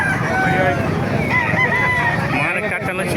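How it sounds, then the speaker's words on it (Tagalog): Several roosters crow loudly and close by at a roadside chicken market in Calumpit, Bulacan, with long overlapping calls over a hum of crowd chatter. "Maraming manok kayo dito sa Kalumpit."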